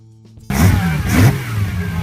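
A Ferrari Colombo V12 racing engine bursts in after a quiet moment and revs hard, rising loud twice in quick succession before settling into a sustained roar, with no voices.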